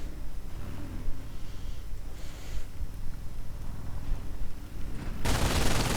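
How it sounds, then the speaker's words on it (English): An MG42 heavy machine gun fires in a video game battle, with distant rattling gunfire and a sudden loud, dense burst near the end. "Suffering from heavy machine gun fire from both the MG and the bike"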